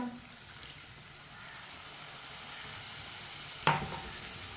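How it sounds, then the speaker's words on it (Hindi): Spices fry in a pan for a rajma (kidney bean curry) as a little water is added and stirred, producing a steady sizzle and hiss with a sharp splash and clink partway through. "अब इसमें पानी डाल लेंगे थोड़ा सा,"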